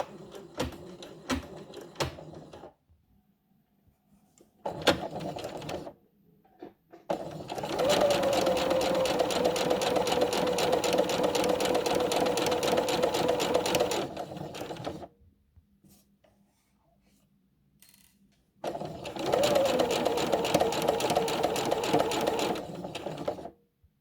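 Domestic sewing machine stitching a small doll dress, running in two long steady whirring bursts with shorter stop-start runs and pauses between, close and loud.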